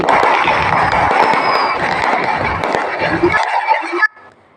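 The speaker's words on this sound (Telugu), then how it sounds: "టపాకాయలు కాలుస్తూ" Dense, continuous crackling bursts from close firecrackers at a village goddess idol immersion procession fill several seconds with a loud, rough roar, then cut off abruptly, leaving faint background noise.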